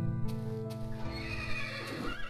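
Horses in Minecraft neigh and whinny with clip-clop hooves, one close, loud call that trails off over a steady game background.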